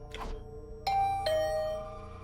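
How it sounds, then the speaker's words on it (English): A two-tone ding-dong doorbell chime rings in the video game Hundred Line Last Defense Academy, two clear struck tones with long ringing decay, preceded by a soft rustle, with no voices. "The bell rang again."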